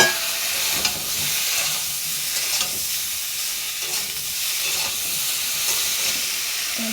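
Potatoes go into hot oil in a pan and sizzle in a dense, even hiss that holds steady and fairly loud throughout, with a small clatter at the very start.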